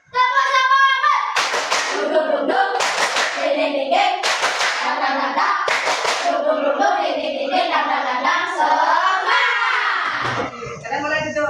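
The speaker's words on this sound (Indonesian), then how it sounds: "Kita tepuk semangat lagi." A class of children does the 'tepuk semangat' spirit clap, sharp rhythmic bursts of hand claps alternating with children chanting the accompanying words in unison, loud and close.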